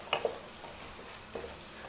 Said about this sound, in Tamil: இப்போது வெங்காயம் நல்லா வதங்கிருச்சு.